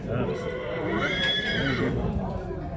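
A barren mare gives a loud, clear neigh with a rising then falling whinny at a livestock bazaar in Shymkent, Kazakhstan, with people talking around it.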